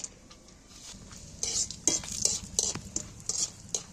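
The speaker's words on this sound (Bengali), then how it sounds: "কাজুগুলো ভাজতে সময় নেয় না" Cashews fried in hot oil in a pan for fried rice, stirred with a utensil: a low steady sizzle under repeated scraping and clinking strokes that grow louder and busier partway through, with no talking.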